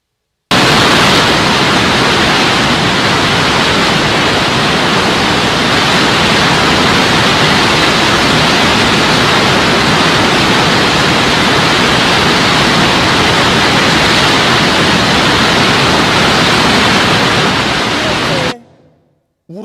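Niagara Falls thunders in a continuous, dense roar of falling water, loud and close, holding steady without a break for nearly twenty seconds before cutting off abruptly.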